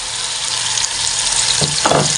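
Ground onion hits hot oil with ginger-garlic paste in a kadai, setting off a loud, continuous sizzle with a couple of brief stirring scrapes near the end.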